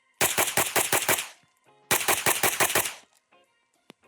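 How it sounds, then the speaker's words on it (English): Semi-automatic shots from an MP5 fitted with a Geissele trigger, fired in two quick strings of about six sharp, loud cracks each, separated by a short pause, with a faint click near the end. "So let's go ahead and get some shots off."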